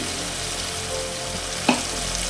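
Ginger, cloves and cinnamon sizzle in hot oil as spices are tempered for a wedding-style stuffed aloo dum, a steady close crackle with one brief clink partway through.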